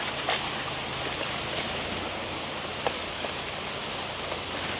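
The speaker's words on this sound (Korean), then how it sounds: "바람에 날리는 사각사각 소리가 굉장히 듣기 좋습니다." Wind moves through the leaves of a bamboo forest, making a steady, soft, broadband rustling hiss with a few faint crackles and ticks scattered across the whole stretch.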